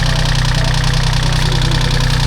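A small excavator's engine idles steadily and loud, close by, with a constant low, even throb and mechanical rattle and no pauses or talking.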